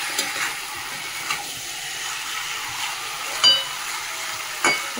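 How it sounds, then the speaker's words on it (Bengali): Chicken and spices cooking down in an oiled pan give a steady sizzle, with a few louder stirring scrapes and pops rising over it. "মশলাটা কষিয়ে নিয়ে চিকেনটা ভালো করে কষাচ্ছি"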